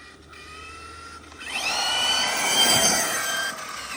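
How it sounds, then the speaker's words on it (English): An Arrma Mojave RC car motor on a 4-cell battery spins up into a loud, rising supercharger-like whine that holds steady and close for a couple of seconds before easing slightly. "it's got like that supercharger whine to it"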